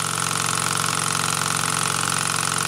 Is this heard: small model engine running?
yes